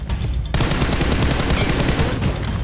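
Gunfire in the mobile game PUBG Mobile, with loud rapid automatic bursts rattling continuously and close, briefly easing near the end before more shots.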